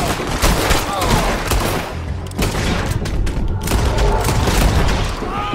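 Rapid gunshots and heavy booms fill a Red Dead Redemption 2 shootout in the video game. The firing is loud, close and nearly continuous, with dense overlapping cracks and blasts throughout.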